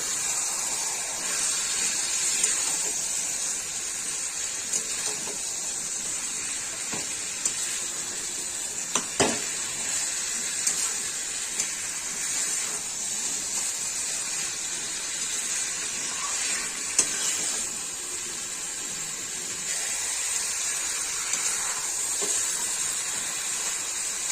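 About 1.2 kg of chicken meat sizzles in a hot pan for a yogurt chicken dish, a steady, close hiss of frying with occasional light clicks and stirring scrapes.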